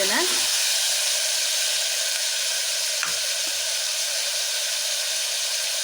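Oil sizzles steadily in a pan while cooking for avarebele sambar, a continuous bright frying hiss with a few faint stirring knocks and no clear speech.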